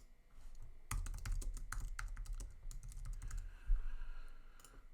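Someone types on a computer keyboard, a quick run of soft, close key clicks with short pauses and a slightly heavier tap near the end, with nobody speaking.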